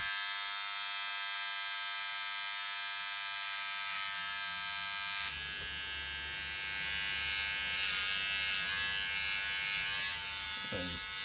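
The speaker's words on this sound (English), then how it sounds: "that's a job for the razor blade" Electric razor buzzing steadily and close while trimming a beard at home, a continuous high whine that shifts in tone midway as the blade meets the hair.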